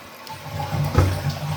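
A toilet flushes to drain the tank while a running toilet is being fixed: a short, close rush of water that surges midway, with no talk.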